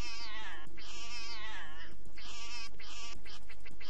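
A cat meows repeatedly in the Dark Parables video game, with long drawn-out cries and short pauses between them, loud and close over a steady game backdrop.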